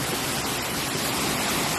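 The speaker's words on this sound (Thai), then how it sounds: "มีน้ำตกครับตรงนี้ เย็นมากครับ" A waterfall at Wat Sala Loi, a Buddhist temple in Thailand, rushes in a dense, steady roar of falling water, close and loud, with no talk.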